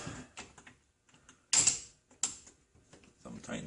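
The thumb screw on a Dent Gear paintless dent repair tool is tightened by hand, giving close, brief mechanical clicks and scrapes with a sharper grinding burst partway through and quiet gaps between.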